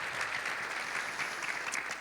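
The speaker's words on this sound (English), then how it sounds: "One more round of applause." An audience at a workforce development summit applauds, a dense, steady clapping held at an even level throughout.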